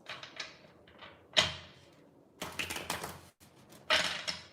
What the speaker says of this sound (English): Anandita, I'm going to just shuffle my cards.